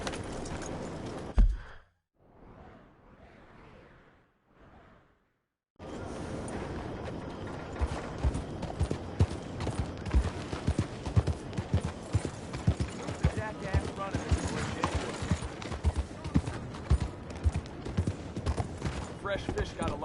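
Hooves gallop in a fast, rhythmic clatter from a horse in Red Dead Redemption, steady and close for most of the stretch after a brief quieter opening, with a voice speaking over it.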